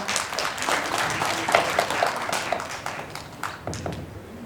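An audience at a Korean village-project results sharing event claps to welcome a village chief presenter from Geumseong-myeon, a lively burst of applause with distinct individual claps standing out, tapering slightly toward the end.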